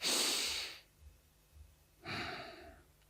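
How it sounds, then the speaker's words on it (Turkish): A person takes slow, deliberate breaths during a breathing exercise, two long airy inhales separated by a quiet pause, close and soft. "Nefes alıyorum."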